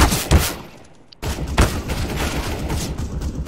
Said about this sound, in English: He's like shooting me through the wall.